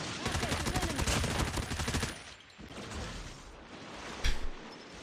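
A newly buffed Chopper light machine gun fires in an online shooter game, a dense rapid burst for about two seconds, then quieter scattered battle noise with a brief sharp shot near the end.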